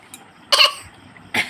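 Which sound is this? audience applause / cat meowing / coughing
coughing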